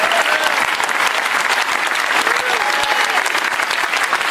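A church congregation claps during a prophetic sermon, loud, dense applause filling the whole stretch without a break, with a few faint voices and whoops rising over it.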